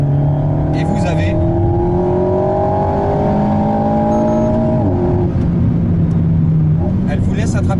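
Alpine A110 S engine in track mode, revs holding and shifting with sharp pedal response, loud and close, with a few bursts of exhaust crackle near the start and end; a voice talks over it throughout.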